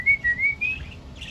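A talking pet bird imitates its owner with a short run of rising, whistled chirps, four or five quick tonal notes close to the mic, followed by a softer warble.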